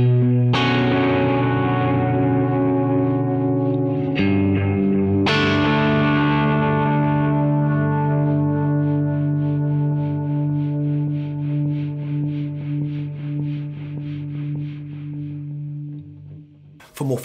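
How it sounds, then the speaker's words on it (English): Guitar run through an AmpliTube Morley modelled effect, with the mechanical noise of a rolling oil-can delay disc blended in: sustained processed chords ringing with chorus-like swirl and echo, restruck several times and decaying, loud with no talk. "This control blends or mixes in the mechanical sound of the rolling oil can for a truly authentic"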